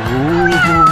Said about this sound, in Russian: Не волнуйся, это твоя кошка.